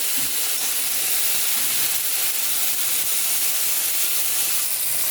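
Kashmiri chili powder sizzling in hot oil for a vegetarian cauliflower dish, a loud, steady, broadband hiss that fills the whole moment without a break or any talking.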